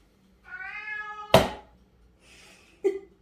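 A house cat meows twice, a drawn-out, rising-and-falling call followed by a short, sharp mew, close and clear against an otherwise quiet room.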